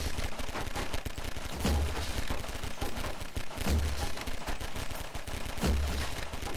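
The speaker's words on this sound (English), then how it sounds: "Well, you shoot their log, and I'll shoot their vending machines" Video game gunfire in Garry's Mod Flood mode: loud, continuous rapid automatic shots with heavier booms recurring about every two seconds, filling the whole stretch without any talking.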